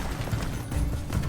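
Incendio fire spell cast in Hogwarts Legacy: a brief, rough crackling burst of flame with a rumbling low end, close and short, without talk.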